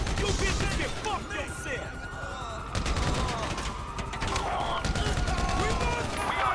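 Rapid bursts of gunfire in GTA 5 crackle loudly through a busy street scene, with repeated shots and impacts, while someone talks over the shooting.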